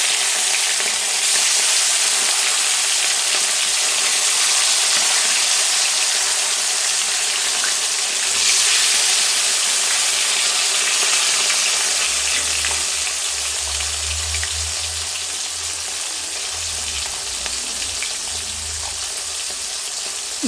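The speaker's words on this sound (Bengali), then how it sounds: "তেলটা একটু চারিদিকে লাগিয়ে দিই তারপরে এক এক মাছগুলো দিয়ে দেবো" Continuous loud sizzling and crackling of rohu fish pieces frying in hot oil, steady and close throughout.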